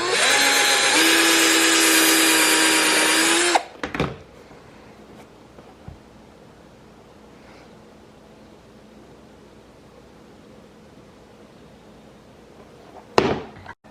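A power drill runs loudly for a few seconds with a high whine, then stops; quiet follows until a brief whir near the end. Drilling during rope-lace customization of Air Force 1 sneakers.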